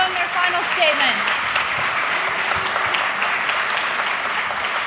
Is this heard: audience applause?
yes